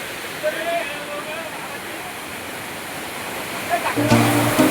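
Water flows and rushes in a steady, loud broadband wash close by, sounding like a small waterfall or stream, with a brief louder burst near the end.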